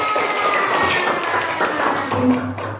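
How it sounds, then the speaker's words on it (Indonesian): A classroom group claps hands together after a quiz round, a brief patter of many quick, moderately loud claps close by with a faint voice underneath. "Kasih tepuk tangan."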